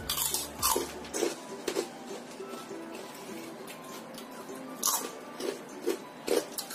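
Homemade krupuk crackers being bitten and chewed, giving sharp, brittle crunches in irregular bursts up close, with a faint clink of dishes and no talking.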